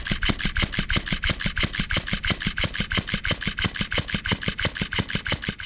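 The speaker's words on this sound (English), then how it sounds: "this is the sound of the dancing fish" A fast, steady mechanical flapping buzz, like a small motor driving something back and forth, about six beats per second, close and continuous.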